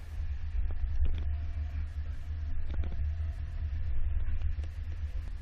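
A 2017 Nissan with a kayak carrier on its roof rolls slowly over solid speed bumps, a steady low engine rumble with a few soft thuds and creaks from the car and carrier.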